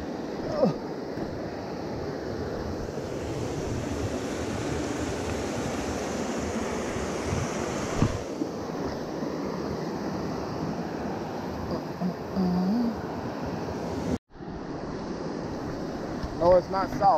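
A creek with a chain of small waterfalls on the Mountain Fork River rushes in a steady broadband wash, blended with wind buffeting the microphone and brief voices, with one abrupt cut near the end.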